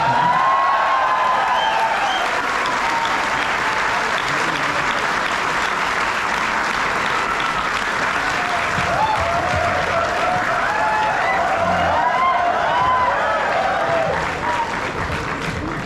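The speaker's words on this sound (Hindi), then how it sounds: "एक बार तालियां बजाकर।" Audience at an IIT Roorkee poetry recital (kavi sammelan) during the THOMSO25 festival claps together in sustained, even applause, with faint voices and cheers mixed into the steady patter for about fifteen seconds before it begins to fade.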